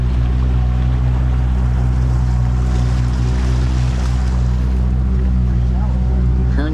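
A MacGregor 26 sailboat cruises slowly under motor off the Florida Keys with a dinghy in tow, its engine a loud steady drone with water wash and wind throughout.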